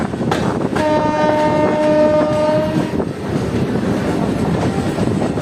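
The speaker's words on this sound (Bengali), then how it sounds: "কৃষ্ণনগর সিটি প্ল্যাটফর্মে চলে এলো আমাদের ট্রেন" A local train pulls into Krishnanagar City platform on the Amghata line, its steady rumble filling the scene while a loud multi-tone horn sounds for about two seconds near the start.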